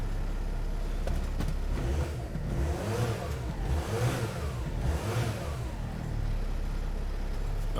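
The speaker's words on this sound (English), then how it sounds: "So the engine is running." A Dodge Sprinter van's diesel engine runs steadily close by, a continuous rumbling drone with slight rhythmic pulsing throughout and no talk over it.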